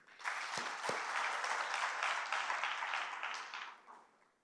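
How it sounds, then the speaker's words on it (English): Audience applause at a graduation ceremony for newly certified coaches, a swell of dense clapping that starts with a couple of sharp claps, holds steady, then tapers off toward the end. "Please, let's clap for them."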